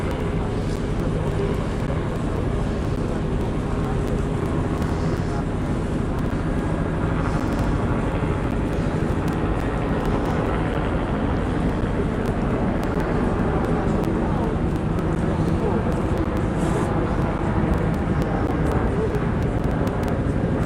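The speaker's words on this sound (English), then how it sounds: "It almost sounds like there's a second helicopter." A helicopter flies overhead during a homeless encampment sweep at Cal Anderson in Seattle, its rotor and engine making a steady, loud, heavy roar that lasts throughout, with faint voices underneath.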